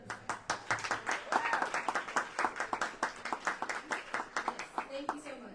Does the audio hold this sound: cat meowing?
no